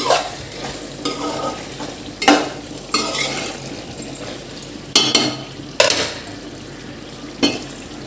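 A spoon scrapes and stirs through a sizzling pot of chicken gongura curry in repeated strokes, with metallic clinks against the sides.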